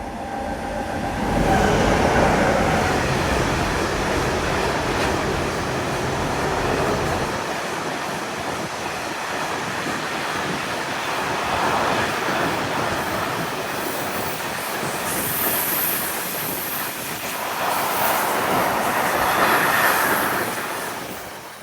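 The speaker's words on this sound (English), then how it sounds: "A double consists of two BR-185s pulling an ore train." A heavy ore train hauled by two BR 185 electric locomotives rumbles past in Ashausen with clattering wheels and occasional high metallic squeals, steady and loud throughout.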